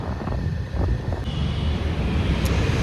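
Wind blows steadily outdoors under cloudy skies, a continuous broad roar buffeting the microphone at fairly loud, even level with no speech.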